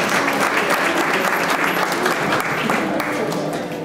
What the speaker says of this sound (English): Let's have a round of applause for Ms. Lorna and all of